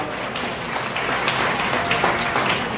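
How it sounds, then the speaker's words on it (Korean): A crowd applauds loudly and continuously at a wedding, dense clapping filling the room without any voices. "큰 박수 부탁드립니다."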